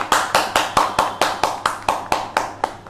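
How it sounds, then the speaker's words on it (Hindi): An audience claps for the winner of an online public speaking competition, a steady rhythm of about a dozen distinct, evenly spaced claps, close and fairly loud, with no other sound. "तो जोरदार तालियां हो जाए सीमा यलकर के लिए।"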